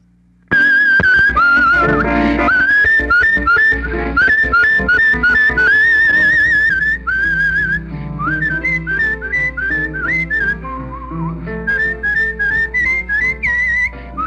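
A man whistles a lively melody solo at close range, loud and clear, with sustained notes and quick runs and trills flowing continuously without pause.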